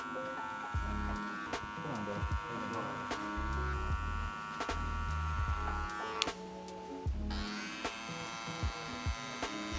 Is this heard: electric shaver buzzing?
yes